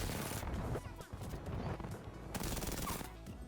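Rapid automatic gunfire in Apex Legends, a dense stream of shots fired at an enemy player, loud and continuous with a few harder cracks near the end.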